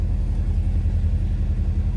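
A supercharged 2015 Chevrolet Corvette Stingray Z51 idles with a deep, steady, throbbing rumble, close and fairly loud, with no talking over it.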